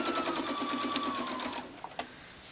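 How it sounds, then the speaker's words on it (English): A sewing machine stitches four quilt patches together, giving a fast, steady close mechanical whir for about a second and a half, then stopping with a couple of small clicks, with no talk. "So just need to sew all these 4 pairs, or 4, they're 4 patches really, 4 patches together."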